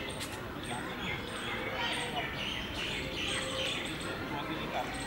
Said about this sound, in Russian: Всюду чирикают птички.